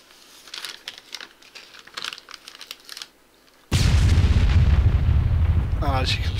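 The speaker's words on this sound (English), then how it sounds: "the explosion is quite big" Quiet clicking and tapping gives way to a sudden loud, sustained video game explosion rumble that roars on to the end.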